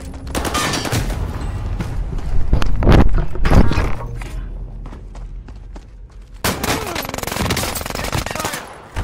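Video game gunfire in rapid automatic bursts, loud and close, with dense rattling volleys, a brief lull, then another sustained burst; a voice is faintly present.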